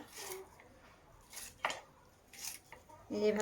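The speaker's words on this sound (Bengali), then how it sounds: "এই যে এইভাবে কেটে নিচ্ছি আলুটা।" A knife slices potatoes into thick pieces, giving a few separate close cuts and soft board knocks with gaps between them, and a pot or dish clinks near the end.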